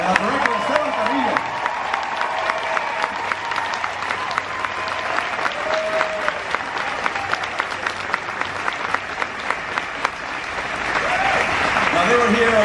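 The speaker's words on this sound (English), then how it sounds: "How about a round of applause, everybody, for Israel Molina and our director, Esteban Carrillo." Sustained audience applause at an Epcot 40th anniversary celebration show, a loud, dense wall of clapping with some cheers, with voices heard briefly near the beginning and end.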